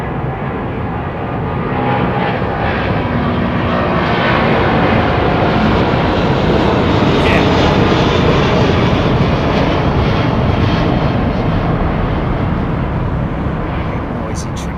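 Low, rumbling roar of an airliner with Rolls-Royce Trent 800 engines departing Heathrow, building and sustained at loud volume for the whole stretch.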